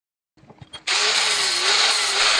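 A power tool cuts through a stainless steel clamp on a driveshaft boot, kicking in abruptly after a few faint clicks and holding a loud, steady, high-pitched whine to the end.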